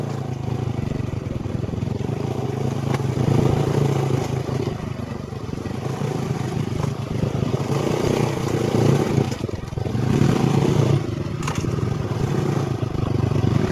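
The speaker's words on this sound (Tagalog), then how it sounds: "Kaya ba ng motor natin to?" Motorcycle engine running steadily close by while riding over a rough, uneven road, with rattling and scraping clatter over the continuous engine drone.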